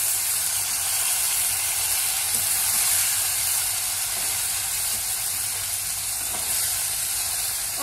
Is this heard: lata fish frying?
yes